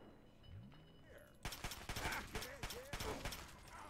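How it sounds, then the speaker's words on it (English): A rapid volley of gunshots fires in the Fallout 3 video game, a dense cluster of sharp, close cracks in quick succession after a quiet start where a voice speaks faintly. "Bro, you took some shots there, bro."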